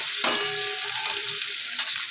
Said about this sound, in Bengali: পেঁয়াজ কুচোটা দিয়ে ভালো করে লাল লাল করে আমরা ভেজে নেব।